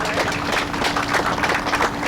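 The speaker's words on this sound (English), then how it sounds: "Can you guys give him a round of applause" An audience at a press conference applauds, a dense, even wash of clapping that is moderately loud and sustained over the whole stretch, with no voices on top.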